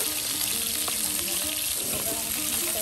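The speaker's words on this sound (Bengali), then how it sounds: "আর এদিকে কিন্তু মাংস আপনার ভাজা ভাজা করে নেওয়া হচ্ছে।" Chicken meat fries in hot oil with a continuous loud, close sizzle, broken by a few light stirring clinks and scrapes.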